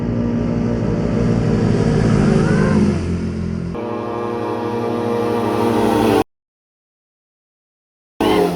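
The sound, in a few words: loud carbureted vehicle engine revving on a road at night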